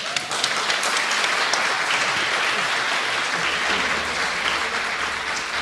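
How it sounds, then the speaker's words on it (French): A large audience claps steadily and loudly throughout, a dense continuous wash of applause with no voices standing out. "Je vous prie d'encore les applaudir"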